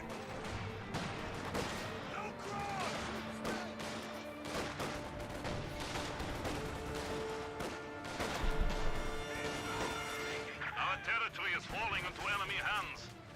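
Frag grenade blast in a Company of Heroes 2 battle, a heavy boom folded into a dense, continuous mix of gunfire, crashes and battlefield noise, with someone talking throughout.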